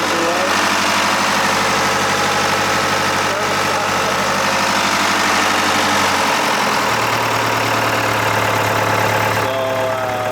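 A 47-year-old sailboat engine, newly revived after long cranking, runs steadily at a close, loud idle with a constant mechanical rumble and a slight shift in pitch partway through. A voice is heard over it.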